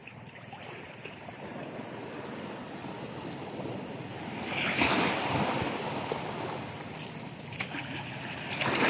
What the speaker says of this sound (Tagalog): Ang lakas ng alon, Mamatik.